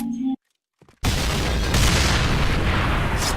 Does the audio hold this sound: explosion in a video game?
yes